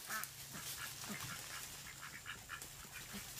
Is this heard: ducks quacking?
yes